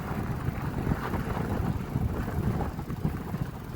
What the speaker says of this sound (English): The wind's blowing pretty good here, so we have a little bit of difficulty with all of it.